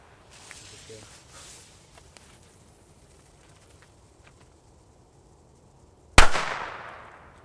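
A single loud old-school friction-lit firecracker bang late in the clip, sharp and close with a decaying echo, after quiet rustling and faint hissing.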